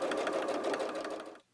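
A sewing machine stitches the corners of exterior fabric for a box pouch, a steady fast mechanical whir with rapid needle clatter, close and loud, stopping abruptly near the end.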